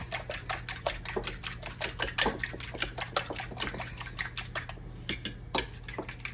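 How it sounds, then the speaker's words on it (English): Egg wash being mixed in a bowl for Southern fried green tomatoes, a fast run of sharp, close utensil clicks and taps against the bowl in a brisk, uneven rhythm, with no speech. "I'm gonna mix that up right there. It's like an egg wash."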